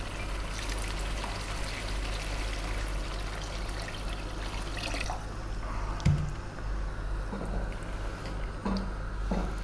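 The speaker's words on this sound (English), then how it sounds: "we're going to be adding 6 cups of water" Cups of water are poured into a pot with rice, making a steady rushing, splashing stream with a few brief clinks and knocks against the pot.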